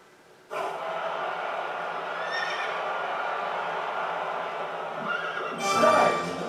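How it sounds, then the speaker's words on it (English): Before a horse race in the Derby Dash game, a horse neighs loudly and close, a drawn-out whinny that starts abruptly and holds for several seconds before rising into a brighter, louder peak near the end. "Alright, time for a horse race."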